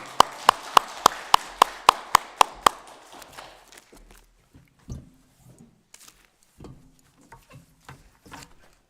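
At a Friday worship service, the congregation gives a brief burst of sharp, evenly timed claps, about nine crisp beats, before it tapers into scattered faint shuffles and knocks in a quiet room.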